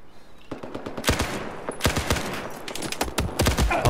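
Gunfire in Battlefield 4 on the Dragon Valley map during a Gunmaster match, with rapid bursts of automatic shots cracking in irregular clusters, loud and sharp with some distant reports, and no talking.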